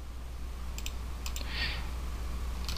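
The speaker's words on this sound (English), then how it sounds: "Click save." A few sharp mouse clicks in a quiet room, including one on a save button in a web admin panel, with brief paired taps spaced apart over steady low hiss.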